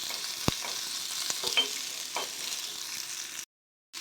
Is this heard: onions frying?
yes